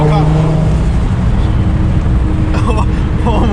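A single turbo Nissan 350Z engine roars loudly at high revs, heard from inside the car as a continuous dense drone with people talking over it.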